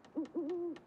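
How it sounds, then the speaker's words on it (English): An owl hoots in The Long Dark survival video game, two soft, low, near hoots in quick succession, the second drawn out, with faint clicks between them. "Love the owl."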